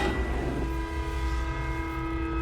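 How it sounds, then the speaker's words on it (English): A train rumbling past in The Darkness II video game, a loud continuous low roar with a steady sustained horn-like drone layered over it, no talk. "Oh, that's a train."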